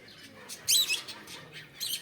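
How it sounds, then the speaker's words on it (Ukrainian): Shrill, high squawks and screeches from several parrots, coming in short bursts with the loudest cluster near the middle, over faint outdoor background. "А тут от кричуть попугаї."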